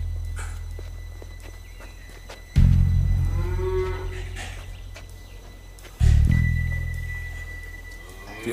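A cow lets out two loud, deep moos a few seconds apart, each fading slowly, close by with faint shuffling in between.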